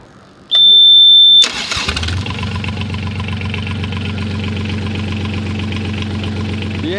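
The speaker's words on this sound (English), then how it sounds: "The engine started really nicely this time." A marine diesel boat engine, just back in order after a fuel system fault, cranks with a loud high whine for about a second, then catches and settles into a steady, close, low rumbling idle.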